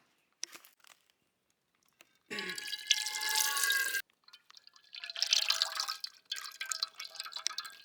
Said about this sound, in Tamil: அதுக்கு வந்து எண்ணெய் ஊற்றிக்கலாம்.